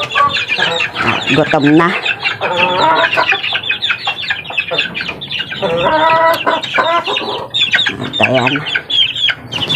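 A laying hen clucks loudly and close by in repeated throaty bursts and drawn-out calls while a person briefly talks nearby.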